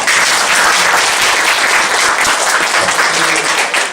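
Lecture audience in a university hall applauding a landscape architecture talk, a thick steady burst of clapping from many people, loud and even, tailing off at the close.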